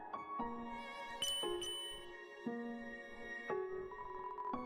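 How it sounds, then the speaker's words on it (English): Ringing of a bell in the video game Undertale: a series of bright, tonal dings, about five strikes in quick succession, each ringing out briefly before the next, clear and alone. "I'm just gonna keep spamming this bell."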